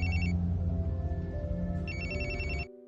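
A telephone rings in electronic trill bursts, two clear bursts separated by a pause, with steady low background music underneath, then cuts off abruptly.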